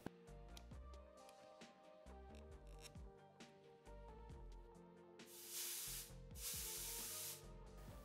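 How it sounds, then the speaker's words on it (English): Compressed air blasts through a pressure sensor hose removed from a KTM/Husqvarna/GasGas 250/300 two-stroke TPI motorcycle, two loud hissing bursts following a series of small clicks and handling knocks. "remove it and just blow it out with some compressed air"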